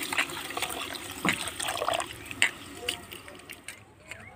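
Rice is washed in water by hand, with soft, close sloshing and intermittent splashes and trickles, fairly quiet and fading toward the end.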